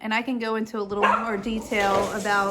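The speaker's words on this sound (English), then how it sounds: "sorry for the dog" A dog barks and yips in short bursts indoors, close and fairly loud, overlapping a person talking throughout.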